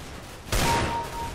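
A single sharp burst of gunfire in Counter-Strike: Global Offensive, sudden and loud after a quiet lead-in, with a short ringing tail.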